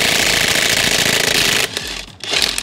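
A DeWalt XR impact wrench with 1,200 foot-pounds of torque, set to level 2, works lug nuts on a Jeep Gladiator with Toyo 37x13.5x17 tires and AEV wheels. It gives a loud, close, continuous rattling hammer burst, then trails into quieter, shorter bursts.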